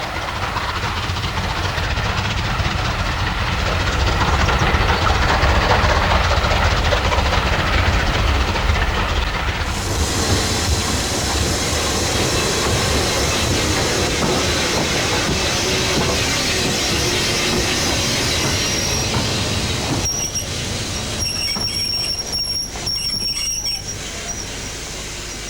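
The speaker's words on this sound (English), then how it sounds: "Bulleid's Pacifics were still running at speeds of up to 100 miles per hour" A Bulleid Pacific steam locomotive running at speed gives a loud, steady rumble of rolling wheels throughout, with a change in tone midway and high metallic squeals near the end.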